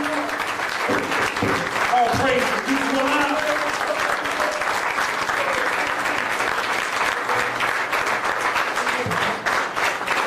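Sustained audience applause fills a large gathering at a religious address, steady and loud throughout, with a voice speaking over the clapping and cheering.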